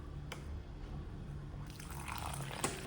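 Water trickles briefly into ground mustard and cumin powder with green chilies and turmeric while a paste is being made, a soft nearby pour over a low background hum.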